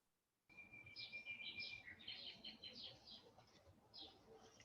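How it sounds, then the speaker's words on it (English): Birdsong drifts in through an open window: several small birds chirping and trilling in quick overlapping phrases, fairly close, with soft cooing and faint background hum beneath. "So I hear very good birds, sounds of birds. This is my open window here."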